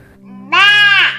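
A voice gives a single drawn-out, wavering bleat imitating a goat, close and loud.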